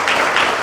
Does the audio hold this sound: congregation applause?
yes